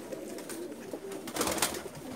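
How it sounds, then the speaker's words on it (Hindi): Breeder pigeons in a loft in Jeddah, Saudi Arabia, coo faintly in soft, low murmurs against quiet background noise, with no talking. "ये इनके कबूतर हैं माशाल्लाह"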